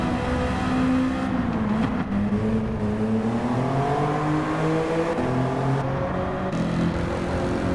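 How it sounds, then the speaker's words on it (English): A loud Mazda Miata race car engine roars continuously, its pitch climbing and dipping as it revs and shifts, close and dominant throughout. "God, this car is loud!"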